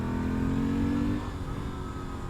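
A 2016 Moto Guzzi V7II Stornello with an aftermarket exhaust, revving with a rising engine tone that eases off midway and settles into a steady rumble, close and loud with no voices.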